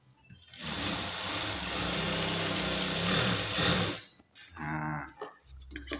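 A sewing machine stitching a pair of high-school trousers runs in one loud continuous whir for about three and a half seconds, then stops and starts again in a few shorter bursts.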